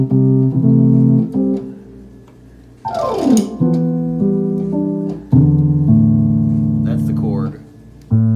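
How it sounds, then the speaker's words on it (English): A Korg electric piano plays sustained chords, loud and close, broken by a descending glissando, with a brief faint voice near the end. "Although it does sound more like a piano than the Korg electric piano does, because that sounds like this."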